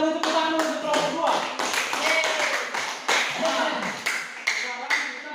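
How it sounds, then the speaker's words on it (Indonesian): A classroom of students claps for a group that has just presented, a loud, fairly even run of sharp claps close by that carries on for several seconds before thinning out. "kita boleh tepuk tangan untuk kelompok 2"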